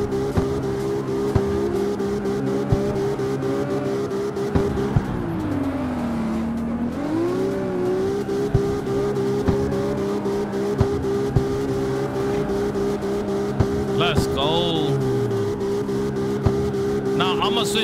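A 2JZ-swapped car in the CarX Street racing game revs loudly and steadily, the engine pitch dipping and climbing through gear changes with sharp shift pops, up close with no speech.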